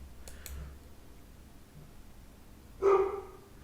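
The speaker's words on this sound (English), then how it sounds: "That's a dog wanting to come in." A dog wanting to come in gives a single short, sharp bark close by, after a couple of faint clicks in an otherwise quiet room.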